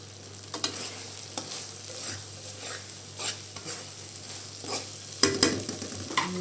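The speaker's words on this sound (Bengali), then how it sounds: "ধনিয়ার পাতাটা দিয়ে নাড়াচাড়া করে নামিয়ে নেব" Chickpea curry (chola boot bhuna) with fresh coriander leaves is stirred in a pan, giving soft scraping strokes over a low steady sizzle, with sharper spoon clinks near the end.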